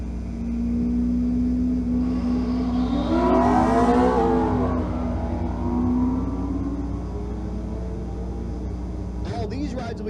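Drag racing at Twin Cities Raceway with a Thunderbird and an S550 Mustang, a steady engine roar that swells as a car passes and then fades, under an announcer's voice over the track PA.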